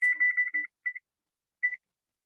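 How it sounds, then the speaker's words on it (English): A kitchen oven timer being set to 350 degrees for 45 minutes gives a quick run of sharp electronic beeps, then a short pair and a final double chirp, clear and close in otherwise silence. "Set my timer."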